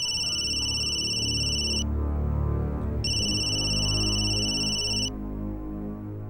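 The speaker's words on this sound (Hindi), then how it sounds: "देखो किसका फोन है।" A telephone rings with bright electronic trill bursts, two long rings separated by a pause, loud over a low hum and murmur of a crowded press gathering.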